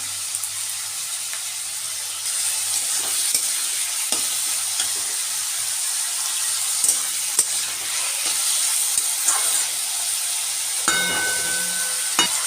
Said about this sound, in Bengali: আগেই আমি লাউয়ের খোসাটা দিয়ে দিলাম